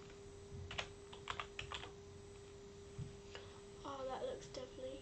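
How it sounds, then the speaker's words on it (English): Quiet, close clicking of keys on a computer keyboard in short uneven bursts over a steady electrical hum, with faint speech-like tones toward the end. "I'm gonna type in black."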